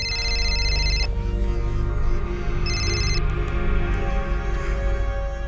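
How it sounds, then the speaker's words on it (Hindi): A telephone rings with an incoming call in a dramatized crime scene, two bursts of bright electronic ringtone near the start and middle over a loud, steady bed of background music. "कॉल लो नम्रता और फोन को स्पीकर पर डालो"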